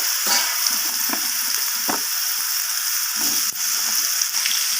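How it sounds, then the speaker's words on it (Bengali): Potato and pumpkin pieces sizzle in hot oil that was just used for frying pointed gourd. A steady hiss carries occasional utensil knocks and scrapes as the pieces are stirred. "পটল ভাজার তেলের মধ্যেই আমি একই সাথে আলু আর কুমড়োগুলোকে দিয়ে দেব"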